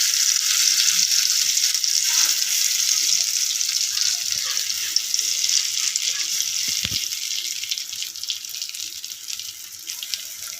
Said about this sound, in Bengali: শশা আর ছোলার ডালের মিক্সটা ঢেলে দেবো। ঢেলে দিচ্ছি, ঢেলে দিয়ে নেড়ে এটা শুকনা করে ফেলবো।